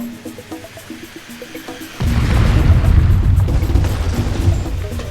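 Cannons fire in Donkey Kong Country Returns on a beach level, a sudden loud boom cutting in midway over quiet game music, followed by a sustained rumbling blast that slowly fades.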